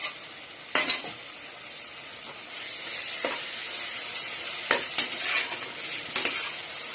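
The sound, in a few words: yogurt sautéing in pan for chicken biryani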